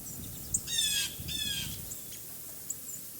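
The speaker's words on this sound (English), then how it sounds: "A few warning buzzes from a bold blue jay are the only indication the hawk has even been noticed." A bold blue jay gives two harsh buzzing warning calls in quick succession in a wintry Connecticut backyard, fairly close, followed by a few faint chirps over quiet background noise.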